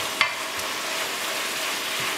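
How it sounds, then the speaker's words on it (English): Bok choy stalks and leaves stir-fried in a pan give a steady, broadband sizzle with a brief stirring scrape near the start, fairly close and even throughout. "And then simply stir this around."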